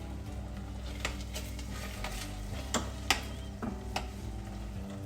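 Sugar is stirred into sweet pongal with ghee, with a steady low sizzle from the pan and scattered spoon scrapes and taps against the pot, close by.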